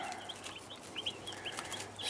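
Cornish rock chicks peeping and clucking softly, a scatter of short high chirps repeating over a faint quiet background.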